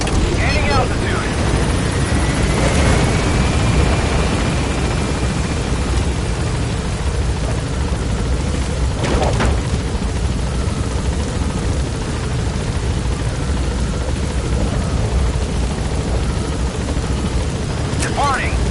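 Extraction helicopter from a video game departing toward Mother Base, a loud, steady rotor and engine roar filling the scene throughout, with brief radio-style voices and a few faint clatters over it.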